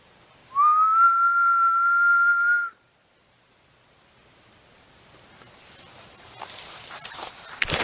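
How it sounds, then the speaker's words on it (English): A single steady human whistle, held loud and clear in wooded Appalachian surroundings for about two seconds, then quiet, with rustling and footstep-like noise building toward the end. "I'm gonna try whistling back"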